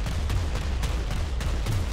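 Gunfire rattles through a PlanetSide 2 battle, a string of sharp bursts and thuds repeating every half second or so over a dense rumble of combat, with no voices.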